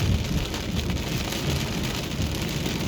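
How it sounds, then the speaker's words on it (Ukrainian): Heavy rain pours down in a dense, steady hiss while driving out from a shop onto a road, drumming on a nearby surface with no pauses. "Оце дощ."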